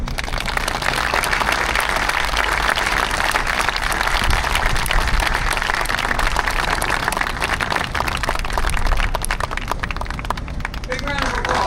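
Dense, continuous outdoor crowd applause at a Vietnam Veterans Day memorial parade welcoming a Medal of Honor recipient, loud and steady throughout with voices mixed in.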